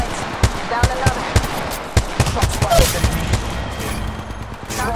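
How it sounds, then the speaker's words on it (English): Gunfire in the video game Apex Legends: a rapid run of sharp, loud shots in an uneven rhythm, thickening into a dense burst midway before trailing off. "Shots fired."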